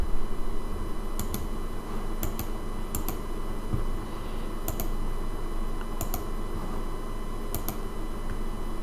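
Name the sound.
pressing keys on a computer keyboard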